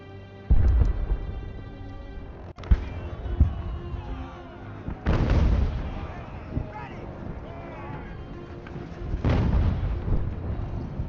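Booming cannon blasts from artillery units in the strategy game Ultimate General: American Revolution, several heavy thuds spread across the scene with rumbling tails, while someone talks over them.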